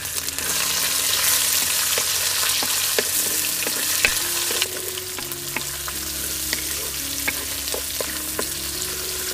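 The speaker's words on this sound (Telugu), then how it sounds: "ఇప్పుడు కోసి పెట్టుకున్న ఉల్లిపాయ ముక్కలు వేసుకుని 1 నిమిషం పాటు వేయించుకుందాం." Chopped onions fry in a pan with a loud, continuous sizzle and crackle. Light scrapes and taps from stirring are scattered through it, and no voice is heard.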